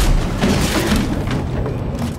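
A heavy, booming gunshot fired in a horror film, loud and dense, with a thick rumbling wash that fills the whole moment instead of a crisp single crack.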